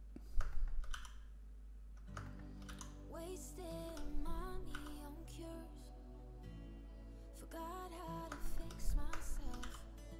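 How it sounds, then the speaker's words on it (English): Keyboard key presses and mouse clicks come as scattered quiet taps over background music while modeling in Blender. "So now I'm just pressing E and then drag my mouse and just left clicking on it."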